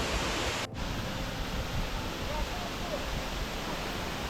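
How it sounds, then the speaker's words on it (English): A tiered waterfall at Sohra, Cherrapunji, dropping from a great height makes a loud, steady broadband roar, heard close from its base. There is a brief dropout near the start, and no voices. "This waterfall is again a tiered waterfall as you can see, and it falls from great height."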